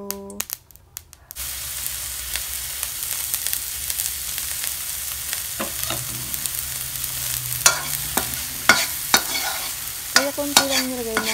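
Onion and tomato sauté in a little olive oil in a pan, with a steady close sizzle and the scrape of stirring throughout, plus a few sharp clinks of the utensil against the pan.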